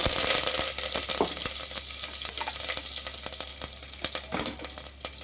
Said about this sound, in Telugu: ఆయిల్ హీట్ అయ్యాక ఆవాలు, జీలకర్ర, కరివేపాకు,